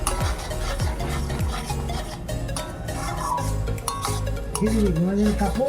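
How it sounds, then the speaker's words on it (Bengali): Masala with cashew paste being stirred and sautéed in a pan, repeated scraping strokes over a gentle sizzle, close by, with voices talking intermittently throughout. "এবার সবগুলো দিয়ে ভালো করে আবার মিক্সিং করে একটু অনেক কষিয়ে নেব"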